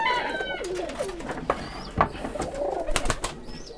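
Rajshahi Giribaz pigeons coo repeatedly at a pigeon farm, soft rolling calls close by with occasional wing rustles and knocks, no talking.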